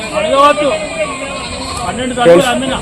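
Goats bleat repeatedly among the crowd at the Rajarampalli animal market, several calls rising over a steady hum of voices and market chatter.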